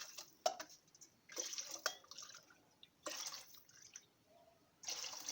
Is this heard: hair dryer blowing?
no